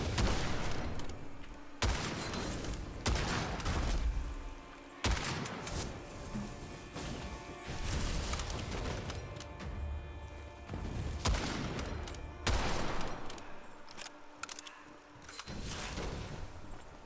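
Gunfire in the Witchfire video game crackles in dense, loud volleys. Sharp bursts start and stop every second or two, under a steady roar of game effects.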